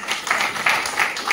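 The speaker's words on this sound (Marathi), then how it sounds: "एक वेळ जोरदार टाळ्या होऊन जाऊया" Vigorous audience applause at a book-release ceremony honoring Dr. Shakuntala Lomte, a brief, dense burst of many hands clapping.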